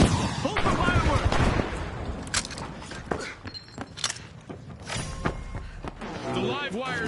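A C4 charge goes off in the video game The Finals, mixing loud blasts and gunfire-like bangs over several seconds. An excited commentator voice runs underneath.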